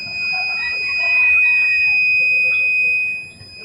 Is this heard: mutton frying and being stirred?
no